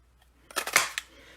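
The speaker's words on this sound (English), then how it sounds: "I'm going to go ahead and cut that out." Scissors snip through paper card stock for a card-making craft project, giving a short cluster of crisp, close cuts lasting about half a second amid otherwise quiet surroundings.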